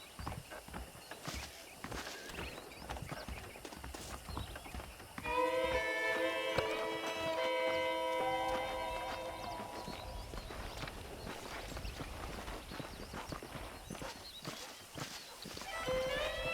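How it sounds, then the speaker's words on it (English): Horse hooves clip-clop in a steady walking rhythm in the video game Red Dead Redemption, close by, with a musical melody entering partway through and playing underneath. "The horses are saddled up over here."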